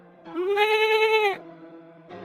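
A cartoon goat gives one loud, wavering bleat that lasts about a second, close and clear, followed by a short quieter bleat.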